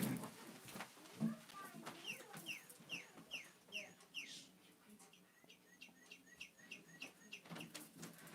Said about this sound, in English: I had little birds chirping. My kids' toys.